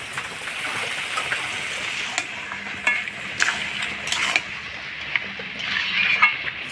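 Coriander and cumin paste fries in a pan in a Bengali kitchen, making a steady moderate sizzle with occasional stirring scrapes, close by and without talking.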